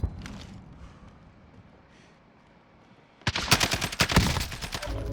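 Call of Duty Modern Warfare Warzone battle royale gunfire: after a few quiet seconds with a lone shot and faint steps, a loud close burst of rapid automatic fire rattles on without pause.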